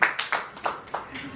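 Scattered clapping from a small audience at an annual Hindi poetry recital, about five separate claps or short bursts spaced irregularly, each sharp and close, with a brief gap between them.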